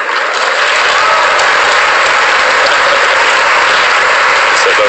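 Loud, dense applause from a large audience at a national spelling bee final, a continuous roar of clapping that holds steady at close range with no pauses.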